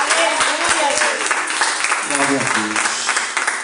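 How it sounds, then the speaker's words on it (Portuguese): A church congregation at a prayer-circle service claps loudly and steadily. A voice calls out praise over the clapping, and others speak and shout in the background. "Aplauda Jesus bem forte."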